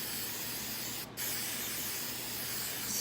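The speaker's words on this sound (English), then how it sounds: "I'm going to spray it with Tresemme hairspray." A can of Tresemme hairspray sprays a craft project in one steady, loud hiss that runs almost the whole time, broken only by a brief gap, close up with no talk.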